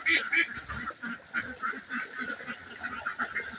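Ducks on a poultry farm quack repeatedly in a busy, close chorus of short nasal calls, some goose-like honks mixed in, with no talking.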